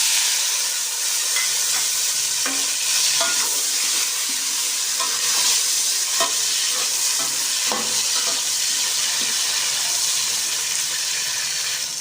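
Sliced tomatoes hit hot frying onions in a pan for a vegetable pulao, giving a loud, steady sizzle and hiss with occasional stirring clinks, no voices.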